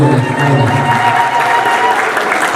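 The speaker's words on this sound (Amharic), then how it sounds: "ደግማችሁ አጨብጭቡና መስሉ" Church congregation clapping together at a service, a dense, steady wash of applause close by, with voices and a sustained tone mixed in throughout.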